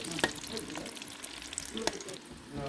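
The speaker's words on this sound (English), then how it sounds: "Yeah, that sizzle." Fries frying in hot oil in a home kitchen, a steady crackling sizzle with brief louder pops, close and continuous with no talking.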